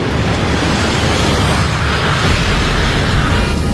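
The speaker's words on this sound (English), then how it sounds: "That sounded like some kind of explosion." A loud, sustained roaring blast fills the whole clip, dense and rumbling without letup, from an explosion and engine fire on an Air France Concorde.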